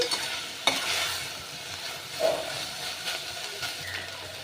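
Mint leaves sautéed in a pan for a lunch rice dish, giving a soft continuous sizzle with a few sharp spatula taps and scrapes, close and fairly quiet.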